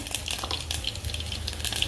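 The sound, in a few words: mustard and cumin seeds crackling in hot oil for tempering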